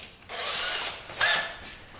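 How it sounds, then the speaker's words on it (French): A power drill fitted with a small 1.5 mm bit bores into PVC while a bath screen is being fitted, giving two short whining bursts close up, with no talk. "je vais juste faire un petit trou dans mon PVC pour que la vis, elle explose pas tout à son passage"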